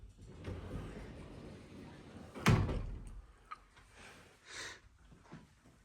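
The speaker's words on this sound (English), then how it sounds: "Has a pocket door, as you can see." A single short sliding thud of a door rolling shut, sharp and close, followed by quieter shuffling and a faint sniff in a quiet room.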